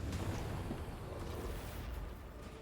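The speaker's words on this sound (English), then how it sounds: "Grenade." A grenade explodes in the video game Warhammer 40,000: Darktide as a dense, low rumbling blast that fills the moment and fades slowly, with no clear voices over it.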